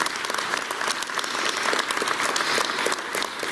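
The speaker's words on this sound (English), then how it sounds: "Let's give her a round of applause for her performance this morning." A crowd in an auditorium breaks into steady, dense applause for a national anthem singer at a city's State of the City address, loud and continuous throughout with no talking over it.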